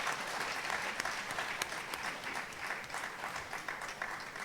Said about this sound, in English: A round of applause, please, for our panelists.